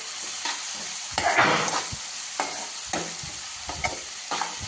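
Four or five green chillies frying in hot oil while being stirred, a steady close sizzle punctuated by regular scraping strokes of a spoon against the pan, no voices.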